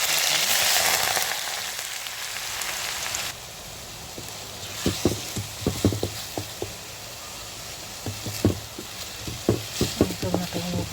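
Onions frying in coconut oil in a pan, a steady sizzle that grows quieter partway through, broken by repeated scraping and clacking as the onions are stirred close by.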